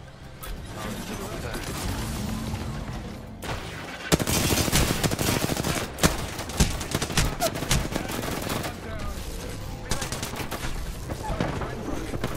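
Rapid automatic gunfire from an Apex Legends match, loud bursts starting a few seconds in and continuing densely over a steady game backdrop, with players talking over it.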